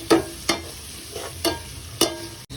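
Onions with a little salt sautéed and stirred in a pan for egg bhurji, with four or five spaced scraping strokes over a soft sizzle, close and alone.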